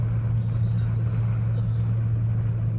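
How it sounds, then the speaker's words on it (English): A loud car engine rumbles in a steady low drone from inside the moving car on a road trip, continuous and close throughout, with faint breathy voice sounds over it. "My car sounds loud."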